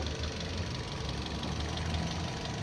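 A 2015 Toyota Yaris TRD S with automatic transmission idles steadily, its engine giving a continuous low rumble with a faint knocking texture, close and alone with no talk.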